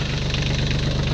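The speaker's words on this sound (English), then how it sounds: "This little tractor wants a service." Kioti compact tractor engine idling, a steady low rhythmic diesel chug with constant loudness, close and alone with no voices.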